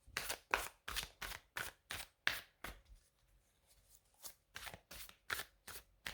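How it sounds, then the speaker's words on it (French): The Dark Mansion Tarot cards are shuffled in quick, crisp riffling bursts, a steady run of sharp flicks that pauses briefly mid-way before resuming, close and fairly quiet with no voices. "tirer les cartes de The Dark Mansion Tarot, qui est donc mon tarot favori"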